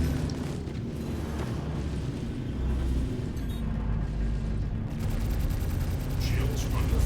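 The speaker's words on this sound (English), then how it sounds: "Shields under fire." Gunfire pounds against a ship's shields in the Star Citizen space game, a dense, continuous rumble of rapid impacts and booms that stays loud throughout.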